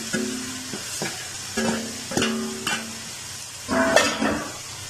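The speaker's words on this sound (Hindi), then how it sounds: "अच्छी तरह मसाले में मिक्स करेंगे" Fried taro is stirred into a sizzling masala. A spoon scrapes and clanks against the pan in a series of distinct strokes over a steady, quiet sizzle, and no one speaks.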